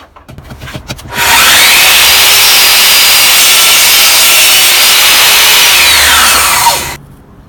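A Ryobi RTMS1800 table-miter saw cuts through wood, a loud, steady high-pitched whine that starts abruptly after a few clicks, holds for about six seconds with the blade's pitch shifting slightly under load, then stops.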